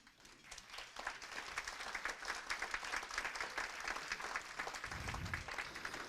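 An audience at TEAM's 57th annual meeting breaks into sustained, dense applause for a speaker. The clapping is fairly distant and builds quickly after a soft start, then holds steady with no talking over it.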